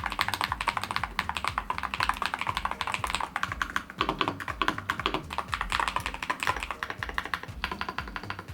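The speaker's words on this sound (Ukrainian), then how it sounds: "Клавіатура не дзвенить і не гуде, навіть при швидкому набиранні тексту." Fast, continuous typing on an ASUS ROG Falchion Ace 65% gaming keyboard, with dense, even clacking and no voices.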